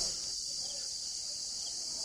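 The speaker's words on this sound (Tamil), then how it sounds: "சில்வண்டு" Cicadas buzzing in the forest along the Velliangiri mountain trek, a continuous high-pitched shrill drone that stays loud and steady throughout with no pauses.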